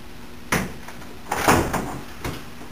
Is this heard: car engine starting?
no